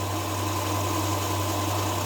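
A 2003 Hyundai Santa Fe engine idles after a new timing job, a steady low hum with a faint even vibration, close and continuous, with no talking.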